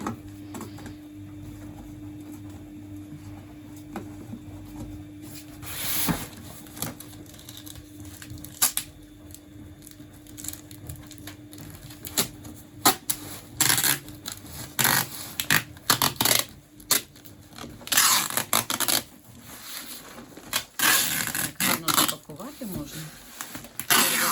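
A parcel of strawberry seedlings in cassette trays is wrapped with packing tape: quiet rustling, then repeated sharp ripping and screeching bursts of tape pulled off the roll, growing denser toward the end, with people talking.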